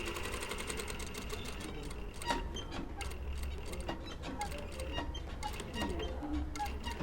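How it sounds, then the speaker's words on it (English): Sewing machine running a long tacking stitch along a rounded-corner patch pocket, a continuous fast mechanical chatter with ticking needle strikes at a steady close level. "nice long machine stitch that's easy to unpick"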